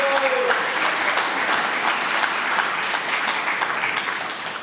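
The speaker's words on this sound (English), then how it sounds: "everyone please give another round of applause for" Conference audience applauds after the last presenter of an honors conference session, a dense, steady round of clapping from many hands that tapers slightly at the end.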